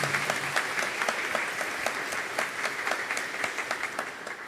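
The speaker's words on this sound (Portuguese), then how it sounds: "Vamos acolher os nossos irmãos com uma salva de palmas" A Catholic church congregation gives a round of applause to welcome visitors, many hands clapping in a steady, moderately loud patter with some distinct individual claps standing out.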